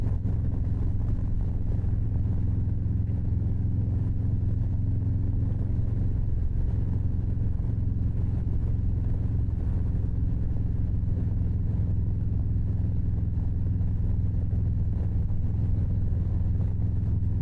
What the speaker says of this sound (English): the exhaust tone at speed, just sort of cruising along, not deafening.